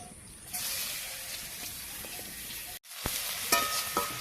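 Crushed garlic and radhuni spice hit hot oil in a frying pan, bursting into a bright sizzle that continues with stirring scrapes, briefly cutting off before resuming louder.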